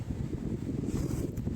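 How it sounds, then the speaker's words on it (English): Strong outdoor wind buffets the microphone with a steady, low, rumbling roar that continues without a break, with no voices over it. "it's so windy"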